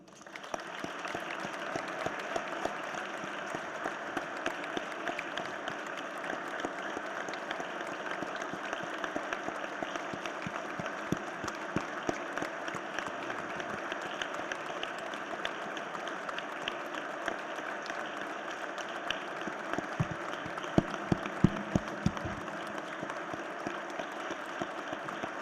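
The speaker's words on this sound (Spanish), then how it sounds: "expresemos nuestro respeto y admiración y gratitud con un minuto de aplausos" An audience at a book presentation gives a sustained round of applause in tribute, steady clapping from a crowd lasting the whole stretch, with a few louder claps near the end.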